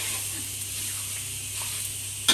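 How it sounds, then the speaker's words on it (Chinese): Pork offal frying in a pan until golden on both sides gives a steady, close sizzling hiss that holds evenly and ends with a brief clink. "煎到这两面都焦黄焦黄的就可以"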